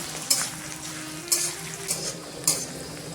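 Onions fry in a pan with garlic in a continuous sizzle, punctuated by four brief scraping stirs of a utensil against the pan.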